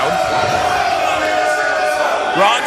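A wrestling crowd at a Twin City Wrestling event roars in a loud, sustained wash of voices, rising slightly near the end as fans react angrily.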